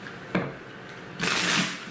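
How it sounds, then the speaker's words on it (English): Tarot cards being shuffled by hand, a quick riffle near the start and a longer, louder rush of flicking cards after a second, close and alone. "Three more shuffles."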